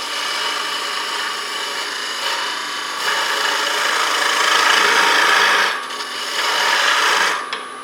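Bowl gouge cutting wood on a spinning wood lathe, a steady loud rasping scrape that swells and eases in several passes, close by with no talk.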